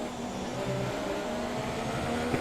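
A Formula 1 car engine in the video game F1 2017 hums steadily, with a sustained tonal whine at a moderate, even level.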